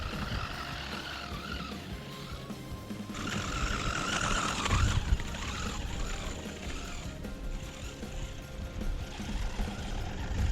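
A WL Toys 124018 RC car drives over loose, uneven ground, its small electric motor whining in rising and falling bursts over a constant rattle and scrabble of tires, fairly faint and moderately close.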